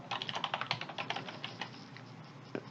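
Typing on a computer keyboard while writing Python code: a steady run of close, quick key clicks that thins out toward the end, with one firmer tap near the finish and no talking.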